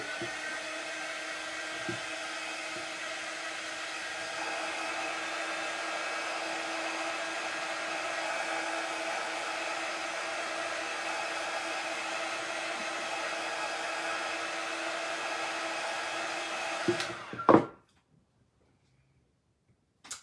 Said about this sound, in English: one more shot with the heat gun to dry this word